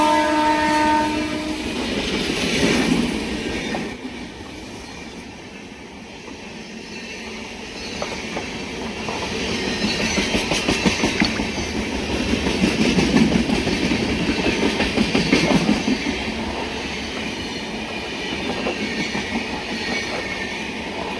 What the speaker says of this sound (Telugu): 12805 లింగంపల్లి నుంచి విశాఖపట్నం వెళ్ళే జన్మభూమి సూపర్ ఫాస్ట్ ఎక్స్ప్రెస్ అయితే వస్తుందండి